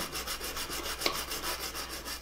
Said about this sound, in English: we're going to scrub around those with the same solution.